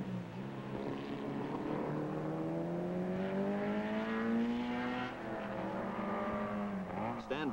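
Vintage race cars lapping the Mosport track, including a Cooper chassis, with a single engine note rising and sweeping steadily as it passes, moderately loud, then fading with a second car approaching at the end.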